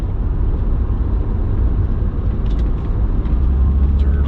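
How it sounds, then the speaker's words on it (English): Steady broadband blowing from the climate control inside an all-aluminum Acura NSX, a constant airy rush with low rumble beneath, even and uninterrupted throughout. "The air conditioning's blowing nice and cool"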